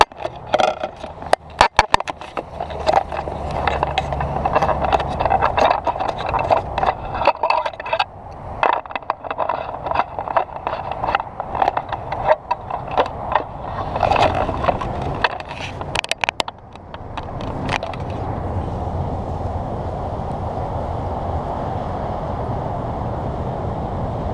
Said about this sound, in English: I'm gonna fire this baby up, let you hear it rip.